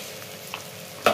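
Ground spices, including turmeric, chilli and cumin powder, fry in oil in a pan for a broccoli curry, giving a soft, steady sizzle that ends in a short, sharp stirring scrape.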